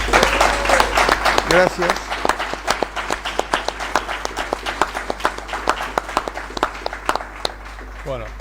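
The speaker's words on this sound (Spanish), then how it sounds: "Un aplauso para el licenciado." An audience at a book presentation claps for the speaker: a burst of dense applause that thins into scattered, rhythmic individual claps, with a voice briefly speaking at the start over a low steady hum.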